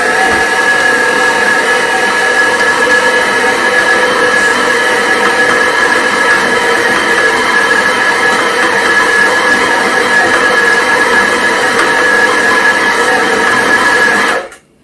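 Mixer on low speed blending oat cinnamon raisin nut cookie dough, a loud continuous motor whine with a steady tone that holds evenly at close range for about fourteen seconds, then cuts off.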